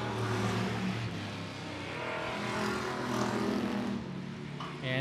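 Stock cars racing on an oval at I-76 Speedway in a Thunder Stock main event, a steady, loud engine roar carrying through the full five seconds with layered droning tones as the pack runs together.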